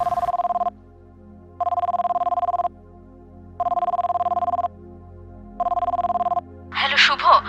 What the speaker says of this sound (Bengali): ফোন রিং বাজছে অনেকক্ষণ যাবৎ